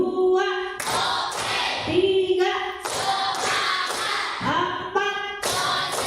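A class of children plays a clapping game, with sharp hand claps landing in quick bursts between chanted voices, close and fairly loud.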